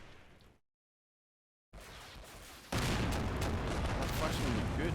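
In Combat Mission: Black Sea, an artillery barrage rumbles with dense booming blasts; a short silence cuts in before the explosions return and swell into a loud, continuous barrage.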